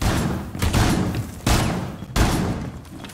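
Gunfire in Rainbow Six Siege, three loud clustered bursts of shots about a second apart, each with a sharp attack and reverberant tail, dense and close.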